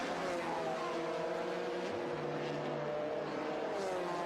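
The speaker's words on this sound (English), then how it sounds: "These 2 cars are still lapping around the 139, 140." Le Mans Endurance Series sports prototypes lapping Monza in the 2004 1000 km race, a steady, continuous engine drone with overlapping harmonic whine from several cars at mid distance, no voices.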